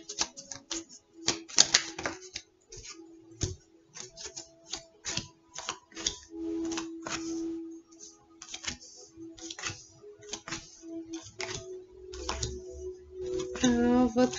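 Tarot cards being shuffled by hand, a long run of close, dry flicking and tapping card sounds in uneven bursts, with a soft voice briefly heard near the end.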